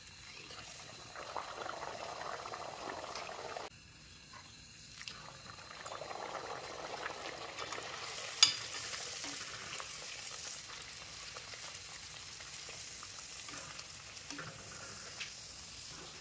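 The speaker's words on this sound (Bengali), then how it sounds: "তেল গরম হয়ে গেছে, এবার এগুলো একটা একটা করে ভেজে নেবো।" Pea-stuffed kochuri, a Bengali fried bread, sizzling in hot oil in a kadai, with a steady frying hiss, occasional stirring and utensil clinks, and a brief quieter stretch partway through; no one speaks.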